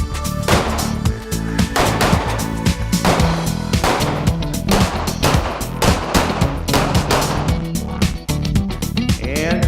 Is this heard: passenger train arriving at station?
no